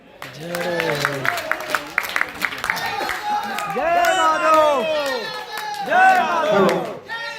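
Crowd at a gathering honouring Captain Ramchandra Yadav, 1962 war veteran, breaks into applause with cheers and shouts, loud and sustained throughout, while voices call out over the clapping.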